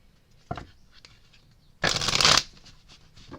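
Tarot cards are shuffled close by: a soft tap, a few faint flicks, then one burst of riffling that lasts about half a second, with quiet around it.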